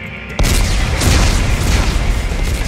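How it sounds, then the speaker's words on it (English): Explosives detonate in the Dead Space video game: a sudden loud boom hits after a brief quiet moment and rolls on as a dense, sustained roar of blast and rumble. "Computer, arm explosives."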